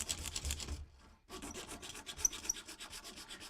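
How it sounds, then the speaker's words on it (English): Rapid back-and-forth hacksaw strokes rasp in a workshop with a steady, rough rhythm, a short pause near the one-second mark, then continued sawing with a few sharp squeaks. "So we're just going to do a little sawing."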